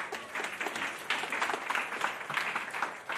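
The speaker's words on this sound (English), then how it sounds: "Can you give Jamie a round of applause" An audience claps steadily throughout a church talk, a dense patter of many hands that stays fairly even and close for a few seconds.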